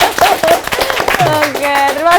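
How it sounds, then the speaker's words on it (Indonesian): Clapping on a talk show set with guests discussing AI and motherhood, brief hand claps mixed under music and voices, moderately loud and close. "tepuk tangan dulu dong"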